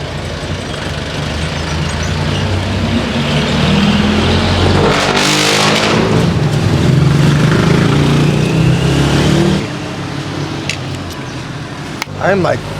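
Dense street traffic in the Philippines, cars, trucks and buses rumbling past nearby with engines revving, a steady loud roar that eases near the end, with a sharp knock at the close.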